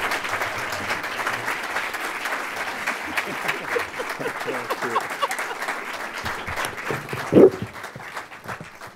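Applause from an audience welcoming a speaker at a school district's State of the Schools address in Pasadena, a steady, dense clapping that runs throughout, with a brief louder burst near the end.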